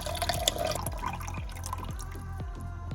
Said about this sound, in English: Now I put the lid thingy for the jar and drain the water out